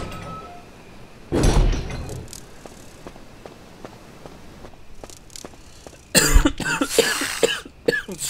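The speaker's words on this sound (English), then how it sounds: "I apologize for coughing like that." A person coughs hard twice during a Resident Evil HD Remaster playthrough: a short burst early on, then a louder, longer coughing fit near the end, with soft ticking footsteps from the game in between.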